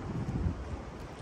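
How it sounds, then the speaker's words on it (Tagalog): Wind gusts buffet the microphone outdoors in Japan, a soft, steady rumbling rush with faint rustling, heard alone. "Mahangin pati. Baka matumba."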